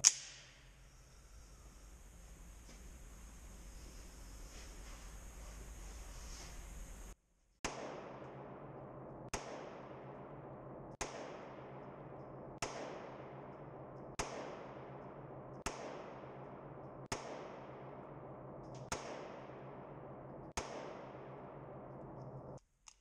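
A Springfield 1911 Ronin EMP 9mm pistol with a 3-inch barrel fires a slow, evenly spaced string of about nine sharp shots at an outdoor range, each crack followed by a short decay, after a quiet stretch.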